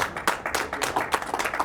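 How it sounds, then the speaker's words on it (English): A casino studio audience applauds the new poker tournament champion with dense, continuous clapping from many hands close by, lasting the whole moment without talk. "Give him a big round of applause."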